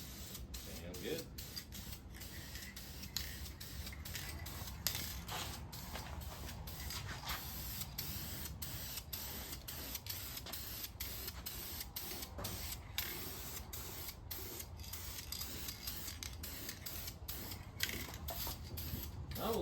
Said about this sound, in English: as long as you don't lay on the paint can in one spot, it'll turn out nice.